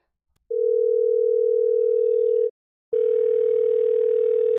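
Steady telephone dial tone on a call, a continuous loud tone lasting about two seconds, a short silence, then the tone returning just as loud.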